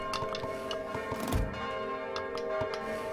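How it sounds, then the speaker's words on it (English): Church bells toll in the Kingdom video game at the end of a blood moon: repeated ringing strikes with lingering tones, mixed with light ticking game sounds and no talk. "the blood moon is officially over because we hear the bells tolling"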